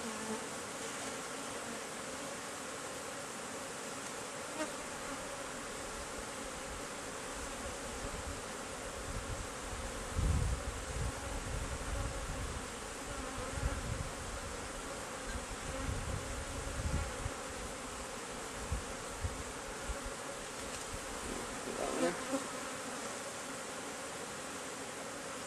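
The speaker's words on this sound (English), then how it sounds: "just put some pressure on the bees, but without squashing them" Honeybees buzz in a steady, close, continuous drone while they are handled at an open hive, with occasional louder swells and no voices.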